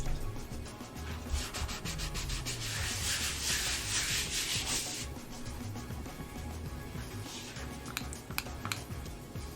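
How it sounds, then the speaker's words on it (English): A cutting board is scrubbed clean, giving a steady, close, gritty rubbing that grows more intense midway, then thins into scattered scraping strokes and light knocks. "Let's start off by cleaning my cutting board here."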